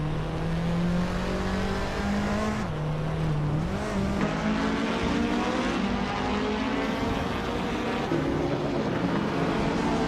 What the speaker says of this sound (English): Bubote is driving a 1984 Fiat Ritmo 130 Abarth, which is known for its compact size and Abarth-tuned performance